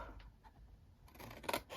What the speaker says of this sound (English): we need to do some cutting